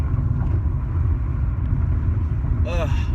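Steady low road rumble inside a new car with a sunroof while driving, continuous and loud, with a short voice-like sound near the end.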